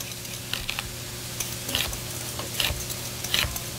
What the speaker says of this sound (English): how would you like me to cut up the celery?